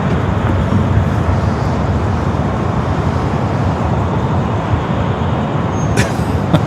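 Cars, including driverless Waymos, rolling past on the road at LAX airport, a dense continuous traffic roar close by with a short higher-pitched squeal near the end.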